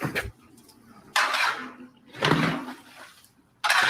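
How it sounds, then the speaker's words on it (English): A spoon works through a pot of rendering pork fat cracklings, giving three bursts of scraping, bubbling stirring separated by short quiet gaps, close and moderately loud. "Let's give it a little stir there, boy."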